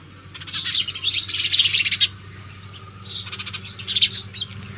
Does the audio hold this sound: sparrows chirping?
yes